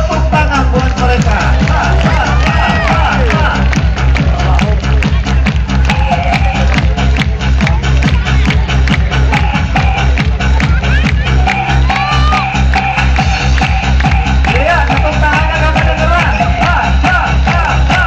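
A crowd at a dolphin show in Taman Safari Indonesia cheers and applauds loudly and without a break for the whole stretch, with whoops and children's shouts rising above the dense roar and voices mixed in.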